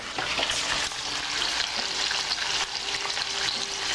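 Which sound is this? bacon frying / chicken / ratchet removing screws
bacon frying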